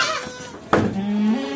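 A goat on a livestock farm lets out a single loud, close bleat with a wavering pitch, starting sharply partway through and holding for under a second.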